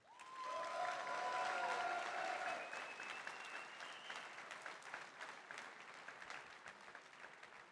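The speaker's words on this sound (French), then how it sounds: "je vous demanderai de les applaudir" An audience applauds competing gardeners at a master gardener contest ceremony, steady clapping swelling quickly then slowly thinning, with a faint whistle-like tone early on.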